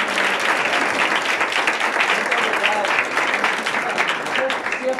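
Participants at a training gathering in Miraflores de la Sierra applaud one another, steady, moderately faint group clapping lasting throughout, with some murmuring voices mixed in.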